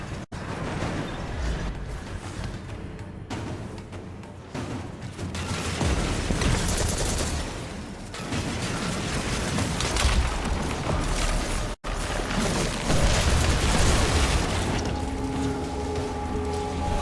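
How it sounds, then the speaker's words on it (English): Gunfire and explosions in the video game Destiny 2 Lightfall form a dense, continuous barrage of bursts and booms that swell and dip in intensity, loud and close. "Constant explosions around my face."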